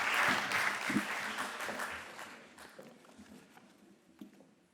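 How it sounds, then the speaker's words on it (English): A conference audience applauds at an anniversary event, a burst of dense clapping that starts strongly and gradually fades away over a few seconds. "Give him a warm applause."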